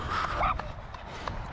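A dog gives a few short, high yips and barks amid a noisy outdoor crowd at a rowing challenge event.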